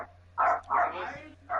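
A dog barks in three short bursts, close and fairly loud, alongside a household conversation about NFL playoff picks.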